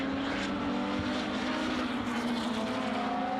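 Lotus race cars sweep past at Snetterton circuit during a Lotus Cup Europe race, a continuous loud engine roar that rises in pitch toward the end.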